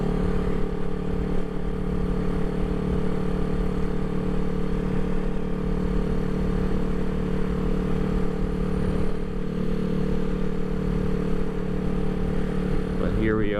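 A 1975 Honda CB360T motorcycle rides along at low speed around 25 miles an hour, its engine a steady, even drone with wind rumble, close and continuous throughout.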